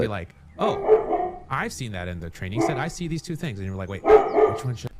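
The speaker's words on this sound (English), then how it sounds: "Apologies for the dog noise there." A dog barks indoors in several sharp bursts, the loud barks breaking in between stretches of someone talking close by.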